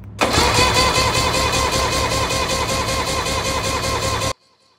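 Mercury 115hp outboard motor cranking on its starter without catching, a loud, close, rhythmic whirring chug sustained for about four seconds before stopping abruptly.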